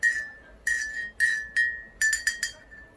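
Metal spoon stirring coffee mixed with Laphroaig Select whisky in a glass, producing a series of bright ringing clinks in quick irregular bursts, close and clear with no talking.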